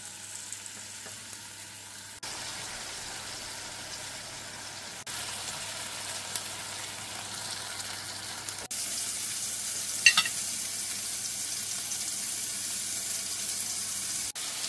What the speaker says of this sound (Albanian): Në një tigan me vaj të nxehur mirë, vazhdojmë i përgojmë pjesët e mishit të donerit.